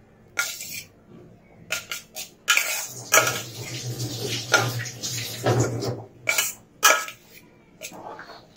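Tomato beetroot rice being stirred and mixed in a bowl, heard as intermittent scraping and clinking of a spoon against the dish in short bursts with pauses between them, with no speech.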